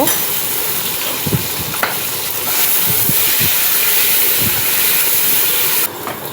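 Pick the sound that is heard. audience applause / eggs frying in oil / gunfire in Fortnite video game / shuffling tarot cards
eggs frying in oil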